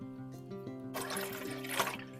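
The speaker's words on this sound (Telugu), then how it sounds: "ఇప్పుడు మనం 4 times 250 ml వాటర్ పోసుకున్నాక" Water is poured into a cooking pot to boil Maggi noodles, a steady close splashing rush that starts after a short stretch of low humming tones.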